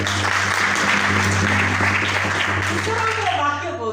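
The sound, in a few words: congregation clapping hands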